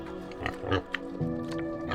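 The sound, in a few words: wild boar sounds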